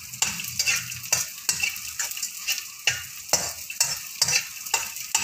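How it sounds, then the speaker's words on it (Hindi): Edible gum pieces fry in desi ghee for panjiri, a continuous sizzle broken by rhythmic, close, repeated scrapes of a spoon stirring the pan roughly every half second. "अब हम इसमें ये जो गोंदे हैं ना इनको फ्राई कर लेंगे।"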